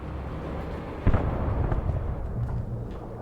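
A distant explosion in the video game Alan Wake, a sudden muffled boom followed by a low rolling rumble over a dim ambient backdrop.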